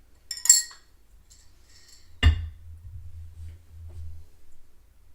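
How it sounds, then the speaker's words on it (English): Half a spoonful of water going into a glass of Compass Box Orchard House whisky: a light metallic clink near the start, then a sharper spoon-on-glass tap at close range with a low hum beneath, no talking. "Let's give it a dash of water, half a spoonful, I think."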